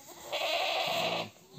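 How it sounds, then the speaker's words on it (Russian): A breeding buck goat on a small farm gives one sustained, loud, quavering bleat lasting about a second, close to the listener, with no talk around it. "основной производитель козлик"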